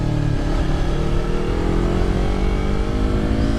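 A Yamaha R3 motorcycle engine revs steadily while riding, a loud continuous drone whose pitch climbs gradually as it accelerates in gear, with no speech.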